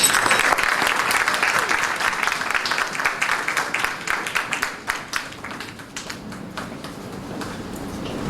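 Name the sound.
audience applause after a school speech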